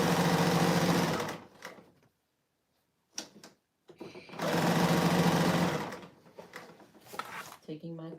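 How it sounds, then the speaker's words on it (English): A Bernina serger overlocks jacket fabric in two loud, sustained bursts with silent gaps between them. Small handling clicks and fabric rustling follow each burst, and there is no speech. "So to be noisy for just a minute as I serge this"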